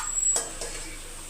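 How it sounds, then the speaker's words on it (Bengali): Fried potatoes are lifted out of hot oil in a pan with a quick metal scrape and clink, followed by a soft, fading sizzle. "এবার আমি আলুগুলোকে ছেঁকে তুলে নিচ্ছি।"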